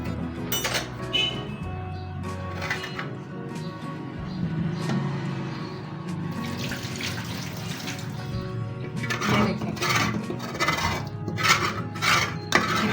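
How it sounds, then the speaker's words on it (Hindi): Water that has cooled is tipped out of a kitchen vessel into a sink, a steady splashing pour running for several seconds with brief clinks of the container, heard close and alone. "मेरा पानी थोड़ा सा ठंडा हो चुका, मैं इसे गिरा देती हूँ"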